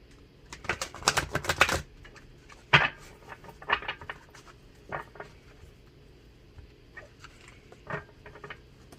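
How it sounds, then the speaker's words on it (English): Soft crisp riffling and slapping of cards shuffled on a cloth surface, in short irregular bursts with quiet gaps, close by and fairly quiet. "I'm actually going to shuffle live too"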